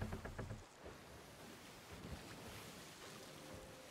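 A ship sailing on ocean waves in the pirate game Sea of Thieves, a steady low rush of water and wind washing past the hull, fairly faint and continuous with no voice over it.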